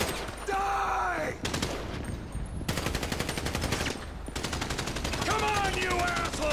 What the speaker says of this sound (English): I guess we're shooting our way out of here!